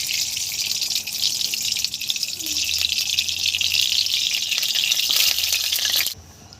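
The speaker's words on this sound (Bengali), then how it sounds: "এবার কড়াইতে তেল দিয়ে দেবো।" Oil goes into a kadai while a vegetarian potol curry is being made, giving a steady, loud hiss that stops abruptly near the end.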